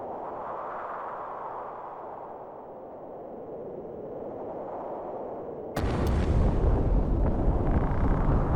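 A sudden low explosion bursts in the Final Fantasy Tactics video game, breaking in abruptly after a soft humming musical backdrop and rumbling on loudly to the end.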